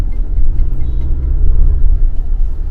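A Mahindra Scorpio N SUV cruising along a road, with a steady low engine and road rumble inside the cabin, continuous and fairly loud with no talk.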